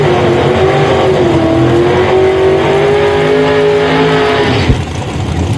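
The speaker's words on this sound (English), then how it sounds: "I like that burnout from Dustin Schroeder, and I love that car" Drag race car doing a burnout at a drag strip, a sustained loud engine roar with a wavering tone and tire noise, close and steady before a brief drop near the end, no talk.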